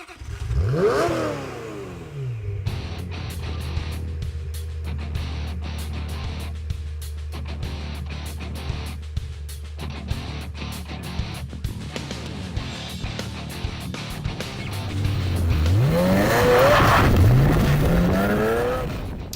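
A Ferrari sports car driving: the engine revs up loudly at the start, settles into a steady low drone, then climbs through rising, gear-shifting revs near the end, with no talk.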